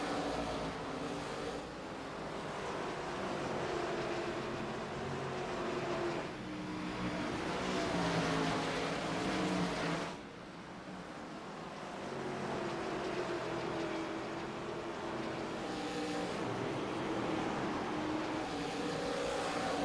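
Race cars in a sim racing game run a hard side-by-side battle for second place in an ARCA Series season finale, their engines droning steadily and loud throughout, with the pitch shifting as the cars pass.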